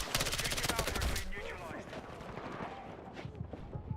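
Close, loud bursts of automatic rifle fire from a weapon with a 35-round magazine in Battlefield 6, with rapid repeated shots up front that thin out into scattered reports and battle noise while a voice talks.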